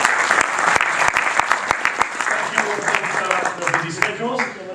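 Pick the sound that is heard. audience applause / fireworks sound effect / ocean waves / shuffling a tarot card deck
audience applause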